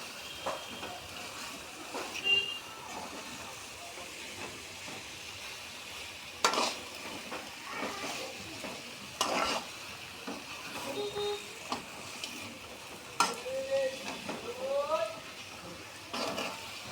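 Dried red chillies and garam masala fry softly in hot oil, with a low sizzle, occasional utensil clinks and stirring, while a person talks over it.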